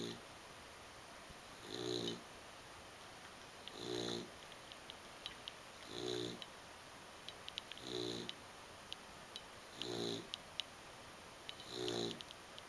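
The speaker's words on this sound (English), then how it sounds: "Is it hard to sleep with Butchie snoring?" A pet snores steadily while sleeping, six low rhythmic snores spaced about two seconds apart, close and fairly soft, with a faint steady hum behind and no talk.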